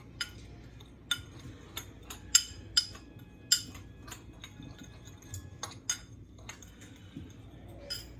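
A spoon or utensil clinks against a bowl while paprika, garlic powder, seasoned salt and pepper are mixed, giving sparse light taps and scrapes at an irregular rhythm, close and fairly quiet, with no talking.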